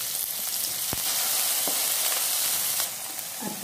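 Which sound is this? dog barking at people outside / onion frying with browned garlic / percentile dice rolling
onion frying with browned garlic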